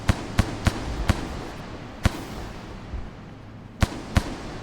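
Mac 10 gunfire in a modded Rain World game: sharp single shots, first a quick run of four, then scattered isolated cracks with gaps of a second or more, loud and close over a low ambient hum, no talk.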